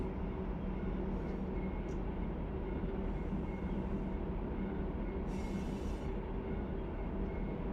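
A heavy freight train hauled by seven locomotives on the Cajon Pass in the Run 8 train simulator: a steady, low rumble of engines and rolling wagons, with faint squeals and clicks now and then, continuous and without talk.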